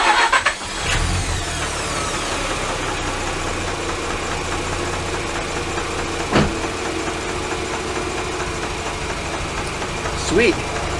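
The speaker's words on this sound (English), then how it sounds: "actually I'll just do a hot start to show how good this engine is." A Mazda RX8 rotary engine is hot-started with a quick crank and catch, then holds a steady buzzing idle up close, with a couple of brief blips along the way.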